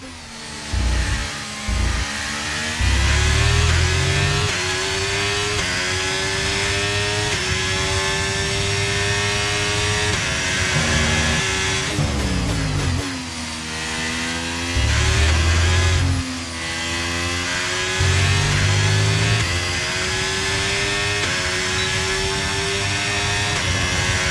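A Mercedes Formula 1 car in the F1 23 video game screams at high revs, with rising gear-by-gear pitch sweeps, brief drops on downshifts and continuous loud engine tone throughout.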